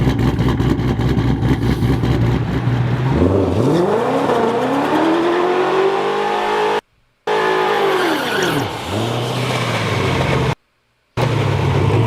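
A 1400-horsepower 2020+ Ford Mustang Shelby GT500 with variable cam timing runs loud and close, its engine note rising and falling in rough sweeps, broken by two brief cutouts.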